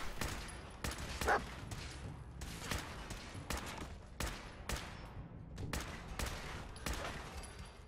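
Rapid gunfire from a weapon in Fallout 4 inside Vault 81, a steady string of loud close shots at a brisk, slightly uneven rhythm, with no voices.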